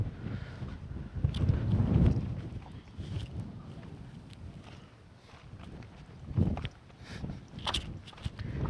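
Wind gusting across a mountain summit at Ambajidurga, buffeting the microphone in low rushing bursts that swell and ease, with faint footsteps or movement beneath.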